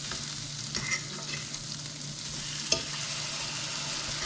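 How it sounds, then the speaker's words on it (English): Crappie fillets sizzle in butter in a frying pan, a constant close hiss of frying with a few faint clinks of a utensil against the pan. No talk is heard. "Throw a little more butter down so they don't stick. Hear them sizzle."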